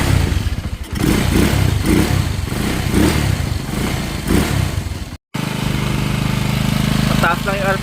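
A Motorstar Star X 175 motorcycle engine, fitted with a new air filter and a platinum spark plug, runs loud and close at high RPM with a steady buzzing drone. A brief dropout cuts the sound, and someone talks over it.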